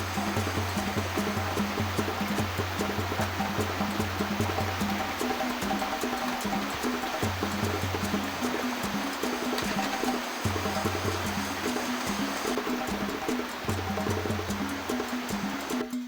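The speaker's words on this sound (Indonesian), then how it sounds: "aku langsung turun ke sungai untuk mengambil air" A river stream flows through a forest, a steady rushing wash of water heard alone with no voices, constant and fairly close.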